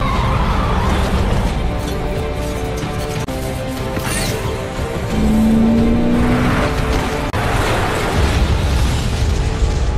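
A loud cartoon bomb explosion booms and rumbles over busy background music and effects, with a sliding whistle-like tone partway through.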